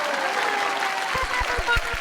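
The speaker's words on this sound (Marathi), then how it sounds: "जोरदार टाळ्या होऊन जाऊ देत." Applause from a TV show studio audience, a dense bed of clapping that runs throughout with a few distinct nearby claps standing out toward the end.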